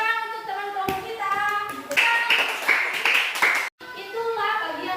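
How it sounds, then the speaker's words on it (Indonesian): A classroom of children claps for a classmate group after a science presentation, with scattered uneven claps building into a short burst of group clapping mixed with kids' voices, then a brief sudden silence and more chatter. "Tepuk tangan untuk teman kelompok kita."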